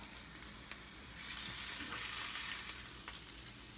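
Taco filling fries in a pan with a soft, steady sizzle that swells briefly midway, fairly quiet and heard alone without talk.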